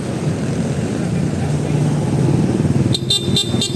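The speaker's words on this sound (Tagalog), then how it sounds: "Stock horn natin par." A low engine idles steadily, then a stock Honda ADV160 scooter horn gives several short, bright beeps near the end, loud and close.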